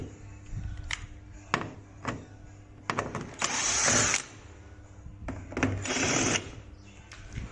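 Screws come loose on the front panel of a Samsung top-loading washer, heard as close clicks and short bursts of a whirring power screwdriver spinning between pauses.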